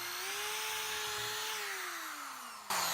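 A power drill runs continuously while boring holes through a wooden baseboard, giving a steady high whine whose pitch slowly drops as it bites under load, ending with a sudden louder burst.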